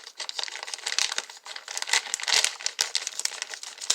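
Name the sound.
opening a plastic pepperoni package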